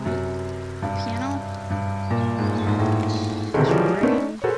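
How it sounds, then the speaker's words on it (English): Rain falls outside in the Roblox game The Normal Elevator, a soft steady patter under prominent piano-like tones sounding in the dark room. "It's raining outside."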